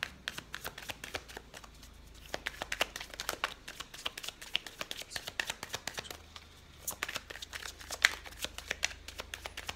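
Oracle cards from the Les Rêves Enchantés deck being shuffled by hand, a steady run of quick papery riffles and flicks, close and clear, with short pauses and a low background hum.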